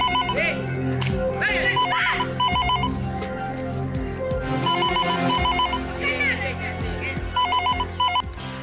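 A telephone rings in repeated trilling bursts, loud and close, over background music and other noise.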